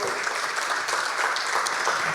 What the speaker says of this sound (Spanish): Un aplauso a Dios por la vida del siervo.